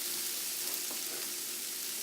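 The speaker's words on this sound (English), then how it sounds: "you just want to saute these until they're mostly tender" Carrots and other vegetables sauté in a hot pan with a steady, close sizzle that continues evenly throughout, with no talking.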